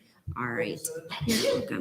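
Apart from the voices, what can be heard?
sneeze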